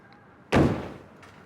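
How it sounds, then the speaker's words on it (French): A single hard kick strikes a door, one loud close thud with a short rumbling decay, followed by silence in an indoor setting. "comme un coup de pied dans une porte"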